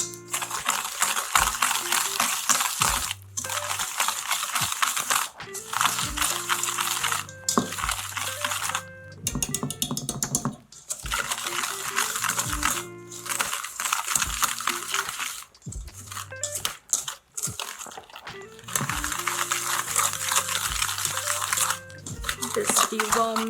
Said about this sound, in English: And then we whisk.